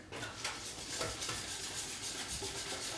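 Hand whisking of brewing ingredients in a bowl for a homebrewed cerveza, a quick steady scraping and clinking of wire against the container that runs continuously, close and fairly loud, with no talking.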